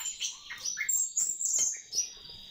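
A young cockatiel gives a run of short, high, bright chirps and tweets at close range, several calls in quick irregular succession against a quiet background.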